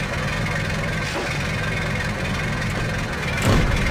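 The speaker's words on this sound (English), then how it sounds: "Tell me a tractor can't get up this hill." A tractor with a dozer blade in the video game Stubbs the Zombie labours up a hill, its engine giving a steady, droning rumble that holds for the whole stretch and swells slightly near the end, with no talk.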